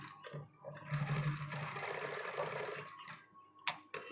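A sewing machine runs a top-stitch along a dress collar, a steady mechanical hum with a faint needle tick, heard close and alone, swelling in the middle and easing off before a couple of short knocks.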